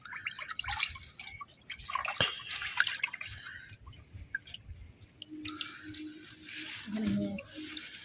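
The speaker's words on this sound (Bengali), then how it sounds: "অনেকটাই জলে নামতে হবে, এক হাঁটু জলে।" Someone wades through knee-deep water in a flooded village vegetable field, with sloshing, dripping and splashing up close, uneven in rhythm, and no speech.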